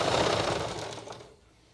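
A sewing machine runs in a steady rapid clatter while stitching a side pocket onto a kurti, close and fairly quiet, fading out toward the end.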